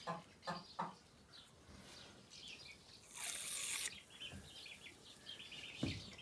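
Young chicks on a poultry farm cluck and peep faintly, with a few short calls early on and scattered softer chirps after, no talk over them.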